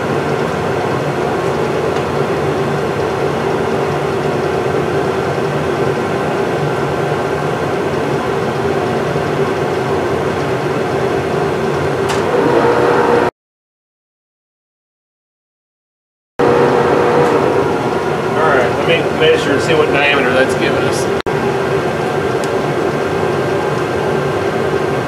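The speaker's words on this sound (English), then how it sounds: "This carbide cutter we're gonna try it on this one" Carbide cutter machining a knob on a lathe-type machine, a loud continuous mechanical grinding drone with a brief silent gap midway, then resuming with sharper scraping chatter.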